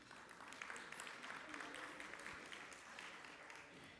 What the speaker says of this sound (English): Give General Motors a round of applause.